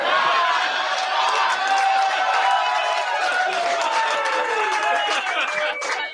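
A stand-up comedy audience breaks into loud, sustained applause and cheering, with whoops and shouting voices layered over continuous clapping throughout.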